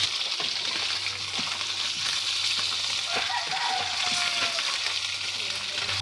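Frog pieces fry in a pan with a steady, dense sizzling hiss and occasional faint pops, continuous and close throughout.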